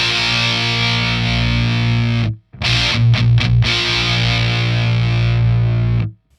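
Electric guitar played through a Fender Hammertone Metal pedal, a loud, thick, heavily distorted sustained chord that cuts out briefly midway, then returns with a few choppy strums before ringing on alone.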